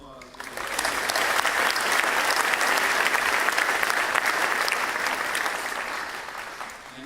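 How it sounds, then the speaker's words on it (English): Audience applause at a graduate school graduation ceremony swells quickly into a dense, sustained roar of many clapping hands, holding steady for several seconds before slowly tapering off. "Maybe one more round of applause."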